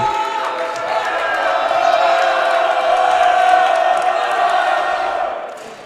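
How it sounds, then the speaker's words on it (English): A packed high-school gym crowd buzzes through a varsity basketball playoff quarterfinal, Loyola Blakefield against McDonogh, with a steady, dense murmur of many voices that swells slightly and holds without sharp cheers. "The crowd's buzzing."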